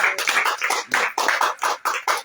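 A church congregation at an evening prayer cell claps in praise of Jesus, with steady rhythmic applause in repeated bursts, close and fairly loud, with no talking over it.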